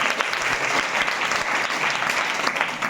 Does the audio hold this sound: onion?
no